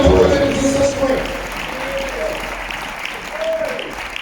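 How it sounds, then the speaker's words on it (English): A church congregation claps steadily, with broadband applause running throughout and a preacher's voice rising over it near the start. "Clap your hands and give the Lord a hand."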